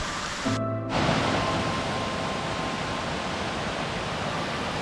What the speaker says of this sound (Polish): Tu jest taki fajny wodospad.